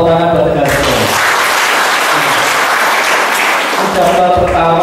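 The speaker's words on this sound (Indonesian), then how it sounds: "Tepuk tangan buat negara." An audience at a village officials' inauguration ceremony claps in a loud, full burst of applause, with a speaker's voice heard before and after it.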